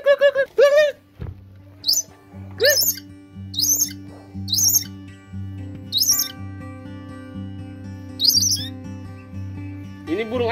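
A bird of an unfamiliar kind gives a run of short, sharp, high chirps, about eight calls spaced unevenly over a low steady hum, close and clear, with no talking.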